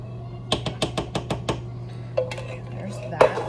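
A spoon rapidly scraping and knocking the bottom of a can, a quick run of about eight even metallic taps followed by a few looser scrapes and a final clank.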